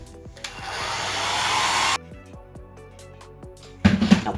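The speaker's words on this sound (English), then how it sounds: "We're gonna heat them up with our hair dryer." A hair dryer blows steadily for about a second and a half while heating an eyelash curler, then cuts off abruptly; softer background sounds follow, and a burst of louder noise comes at the end.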